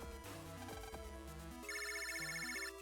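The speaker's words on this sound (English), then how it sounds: "water heater alarm is ringing." A gas-powered water heater alarm rings as a bright electronic tone pattern, a stepped melodic sequence followed by rapid repeated high beeps.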